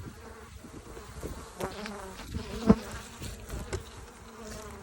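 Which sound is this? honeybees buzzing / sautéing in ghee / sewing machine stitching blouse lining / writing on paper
honeybees buzzing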